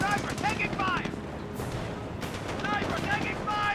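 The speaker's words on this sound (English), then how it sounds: "30 cal fired a little bit of a burst there" A .30 cal machine gun in Company of Heroes fires a short burst of rapid gunshots amid dense battlefield noise and other distant firing, loud and continuous throughout.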